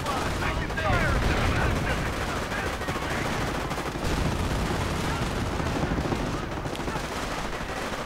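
Continuous battle gunfire from a WWII real-time strategy game, with a dense, steady mix of rifle and machine-gun shots plus distant blasts running throughout at a constant loud level.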